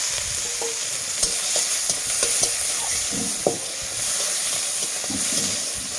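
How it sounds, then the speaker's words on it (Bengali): Sliced onion sizzles in hot oil with bay leaf, green chili, whole garam masala and nigella seeds, a steady close frying hiss broken by the clicks and scrapes of stirring. "এটা একটু লাল লাল হয়ে গেলে দিয়ে এখানে আমি দিয়ে দেবো পেঁয়াজটা"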